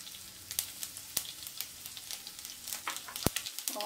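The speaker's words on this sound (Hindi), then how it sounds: "फ्राई भी अच्छे से क्रैकल हो रही है, हल्का सा भून लेती हूँ" Steady oil sizzle of garlic and ginger frying over low heat, with scattered crackles and pops, close by and moderately quiet, with one sharp louder pop near the end.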